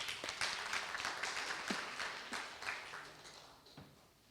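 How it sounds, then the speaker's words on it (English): Warm round of applause from an audience at the Archbishop Desmond Tutu induction event at Freedom Park's Gallery of Leaders, a steady wash of many hands clapping that gradually fades out. "let's give her a warm round of applause, please"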